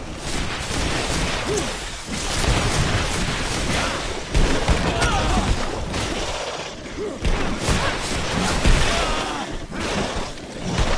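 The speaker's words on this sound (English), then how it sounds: "Grenade!" A grenade blast and bursts of gunfire roar through a Greedfall battle on PS4 Pro, forming a dense, loud, continuous wash of combat noise with shouted voices mixed in.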